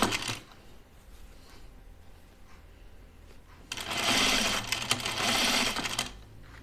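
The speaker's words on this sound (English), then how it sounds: "So I'm going to sew this, I think at like a 1/2 inch right here." A sewing machine stitches a seam on a pajama top, first as a faint low hum, then as a louder, steady whirring run of stitches for about two seconds before it stops, with no talking.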